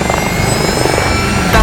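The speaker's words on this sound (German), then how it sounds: "wir können unsere Drohne starten" A small drone lifting off beside a lake, giving a steady loud whirring rotor hum with high whining tones that holds for the whole moment.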